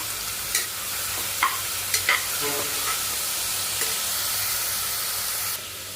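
Tomatoes with a pinch of salt sautéing in a pan on the stove at low heat give a steady soft sizzle, broken by a few sharp stirring scrapes and clinks, with no voices.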